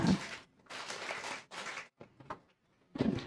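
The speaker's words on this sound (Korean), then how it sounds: "다 함께 박수로 환영하겠습니다." Bursts of clapping from a church congregation during a Sunday service, coming in several waves with short pauses between them.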